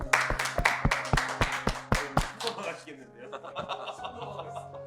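Sharp rhythmic hand claps ring out loud and close for about two seconds, then fade into scattered lighter claps and chuckles as voices talk, greeting a taekwondo board-breaking master being introduced.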